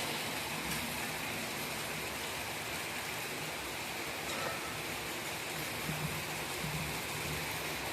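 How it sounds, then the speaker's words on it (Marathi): Steady rain falls in a continuous broadband hiss at an even level with no breaks, with faint indistinct sounds of people in the background. "आज सकाळपासूनच पाऊस आहे ना आई. खूप पडतो."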